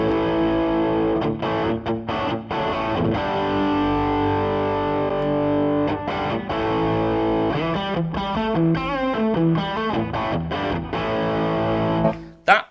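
Distorted electric guitar through an overdrive pedal, with a gritty tone, playing sustained chords and choppy riffs, loud and continuous before cutting off at the end.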